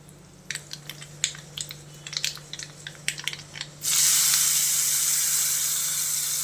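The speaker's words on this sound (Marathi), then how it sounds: "मोहरी घालूया थोडंसं हिंग घालूया" Mustard seeds crackle and pop in hot oil with sharp, scattered snaps, then asafoetida goes in and a loud, steady sizzle surges up and holds close by until the end.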